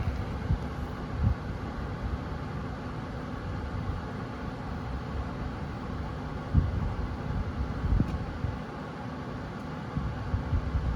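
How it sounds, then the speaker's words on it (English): Cooling fans on a Jaguar I-Pace electric car whir steadily during DC fast charging, a constant low hum and rushing drone with a few faint knocks, heard alone at moderate distance. "Fans on the car have ramped up."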